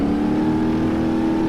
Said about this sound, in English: We have to really get the revs up